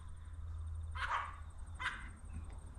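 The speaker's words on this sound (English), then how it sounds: "If I beep the horn, they bark at me." Dogs bark in reply to a motorcycle horn beside a Velocette, two sharp close barks about a second apart and a fainter third, over a low steady hum.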